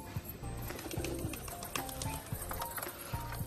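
A pigeon coos softly in repeated low, rolling calls, faint and somewhat distant over steady outdoor background noise.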